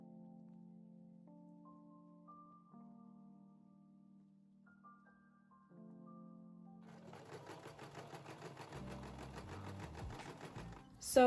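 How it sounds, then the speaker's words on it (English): A sewing machine stitches ruching channels on a dress, starting as slow, sparse pulses and then speeding into a steady, fast mechanical whir, close and fairly quiet. "So I just finished sewing the ruching channels on both sides of the dress"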